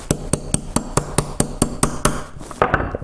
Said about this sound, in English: now take your 3/32 punch once you get it down in there pretty good. And just go ahead and should drive pretty much right out.